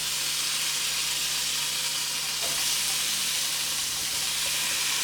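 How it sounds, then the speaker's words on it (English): Onions added to a hot pan for stew fish sizzle in a loud, steady hiss with a brief stirring scrape partway through, close and continuous. "And then now we're going to add the onions."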